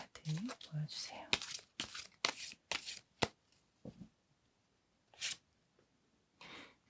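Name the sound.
tarot cards being shuffled and drawn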